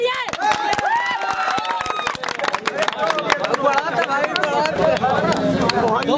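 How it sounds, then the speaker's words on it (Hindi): A crowd claps in scattered bursts at a street-side pani puri eating challenge, sharp hand claps mixed with lively chatter and someone talking loudly over the noise. "ताली मारिए।"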